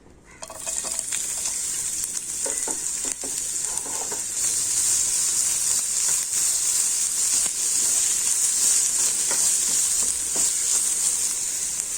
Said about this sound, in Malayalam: വെളിച്ചെണ്ണ ചൂടായിട്ടോ, സവാള ഇടാം.